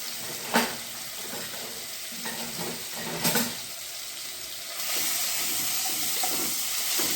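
Ginger-garlic paste sautéing in hot oil with asafoetida and cumin seeds for palak paneer, a steady close sizzle with a couple of brief bursts and a louder, hissier stretch toward the end; no talking.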